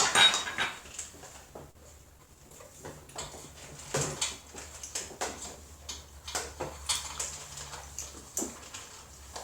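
Rhythmic scraping and clinking of a utensil against a pot as a dandelion mead mixture is stirred, repeated strokes growing steadier and louder toward the end.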